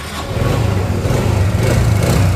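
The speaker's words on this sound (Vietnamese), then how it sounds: "Máy nó rất là chắc chắn, anh nổ máy anh chị nghe thử nha." A Suzuki Viva motorcycle engine runs at a shop after being started, a close, loud, steady low putter with a slight uneven throb and no talk.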